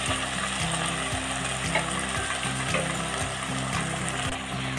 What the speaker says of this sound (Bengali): এরপর এতে কুচানো বাঁধাকপিটা দিয়ে দিচ্ছি।